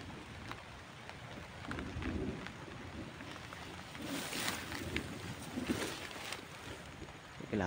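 Heavy rain pours down in a steady, dense hiss, with occasional louder gusts and swells, continuous and close throughout without speech.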